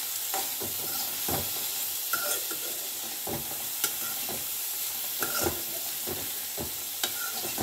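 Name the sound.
coconut pieces frying and stirred in oil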